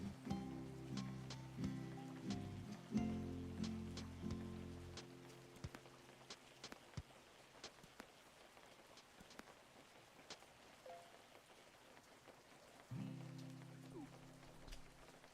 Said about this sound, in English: This rain has been here for a surprisingly long amount of time.